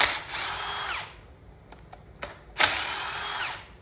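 A power tool whirs in two close, loud bursts as it removes engine bolts from a Rhino 2 junior racing engine during disassembly, with brief clicks and clatter in the pause between.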